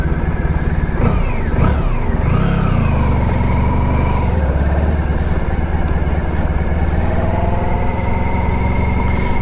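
A 1994 Honda ST1100 motorcycle engine runs in a Walmart parking lot just after starting, a loud close steady idle with a couple of early throttle blips and rumbling low tone.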